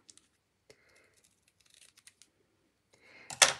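Scissors cut paper while a Stampin' Up card is being made, giving a few scattered quiet snips and small clicks followed by a louder crisp cutting rasp at the very end, with no talking.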